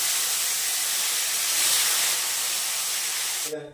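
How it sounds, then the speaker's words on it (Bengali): Fish pieces frying in hot oil in a kadai wok give a loud, steady hiss that holds for about three and a half seconds and then cuts off abruptly. "এদিকে কড়াইও বসিয়ে দিয়েছি, এবার মাছটাকে ভেজে নিই"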